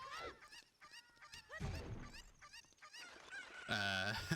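Chickens clucking and squawking in the Zelda: Ocarina of Time game, a run of short bird calls rising and falling, ending in a loud sustained cry, with game sounds around them.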